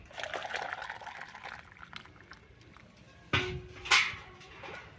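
Water pours in short bursts from a jug into a pot of heated water for rice flour papad, with a louder splash and trickle near the end, close by and without talk.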